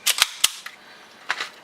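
EDGE lightweight airsoft blowback unit cycling with sharp mechanical clacks: two quick snaps, a third shortly after, a faint click, then another pair of louder clacks near the end, close and alone with no talking.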